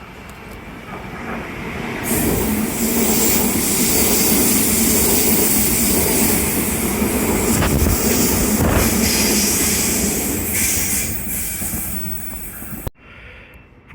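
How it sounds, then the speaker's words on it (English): A train passes through a platform at Flemington station at fairly normal speed, its loud rushing roar building quickly, holding strong for about ten seconds, then cutting off. "We have a train about to pass through platform number 4."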